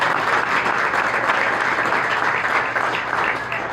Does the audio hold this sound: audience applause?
yes